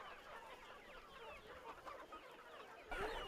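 Chickens cluck faintly on a farm where they are fed live insect larvae, a soft, continuous flock chatter heard at a distance, with a louder cluck near the end.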